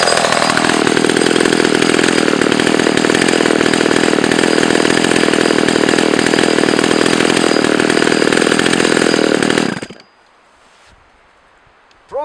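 Old Pioneer Holliday II 970 chainsaw engine running loud and close at a steady high buzz for about ten seconds, then cutting out abruptly into near silence.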